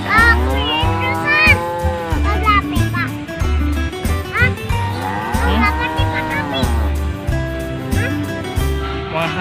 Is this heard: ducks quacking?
no